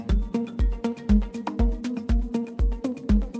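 Looped melodic sample for an Afro House track: a short tonal phrase with punchy low kick-like hits repeating in a steady rhythm roughly every half second, loud and clean with no talk.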